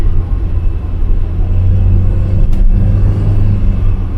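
A Mk3 Ford Cortina estate on new rear springs cruising along, its engine giving a loud, steady low rumble with road roar inside the cabin and a brief swell in the middle.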